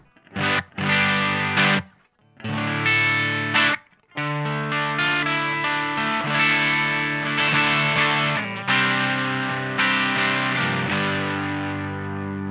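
Electric guitar through a Mad Professor Simble Overdrive pedal at mild gain plays chords and riffs with crunchy, moderate distortion, brief pauses between phrases, no voices.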